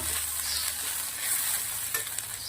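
Close, steady frying sizzle with soft scraping as a spoon stirs pav bhaji masala and garam masala in a pan, a few light knocks near the end.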